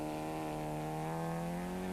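A Class C Golf GTI rally car driving a stage, its engine a steady, strongly harmonic drone held at a constant pitch, loud and unbroken throughout with no voices.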